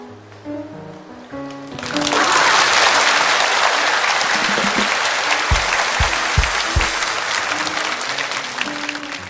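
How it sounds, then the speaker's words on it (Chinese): A studio audience at a televised science lecture talk show bursts into sustained applause, loud and dense, swelling after a quiet opening and holding steady with a few low thumps underneath. "谁刚才带头鼓掌"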